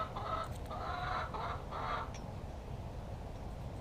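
Backyard chickens cluck in a short run of rhythmic, nasal calls over the first two seconds, fairly close, followed by a low steady outdoor background.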